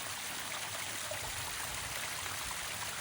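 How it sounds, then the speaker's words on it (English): Garden pond waterfall running in winter, a steady, even rush of splashing water that holds constant throughout, close and moderately loud with no voices. "This is the final time we're gonna see the waterfall."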